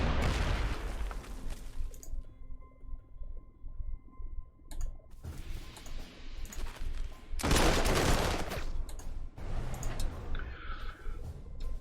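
Volleys of rifle and machine-gun fire crackle through a World War II battle in the strategy game Corps 2, with bursts and sharp cracks at near and middle distance, heaviest in loud clusters.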